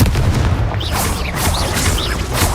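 Confringo explosion spells cast in Hogwarts Legacy, loud, dense booming blasts rolling one into another with a few sharper bursts layered on top, and no talking.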